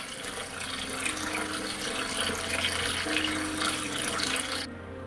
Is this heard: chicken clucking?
no